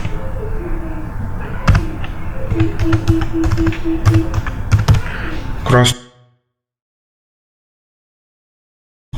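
Quick irregular keystroke taps on a computer keyboard, close and crisp, mixed with a voice talking over them for about six seconds before cutting to silence.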